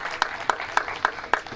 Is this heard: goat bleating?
no